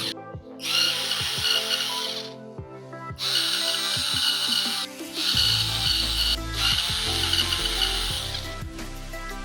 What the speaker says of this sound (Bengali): এখন আমি সবগুলো স্ক্রু লুজ দিয়ে নিচ্ছি সুইচ এবং সকেটের